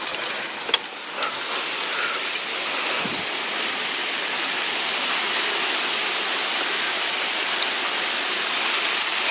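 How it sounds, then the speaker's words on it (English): Hail falls during a thunderstorm, making a dense, steady hiss of pellets striking nearby surfaces. There are a few sharper hits near the start, and no voices. "They keep bouncing off of my hands, but there's hail."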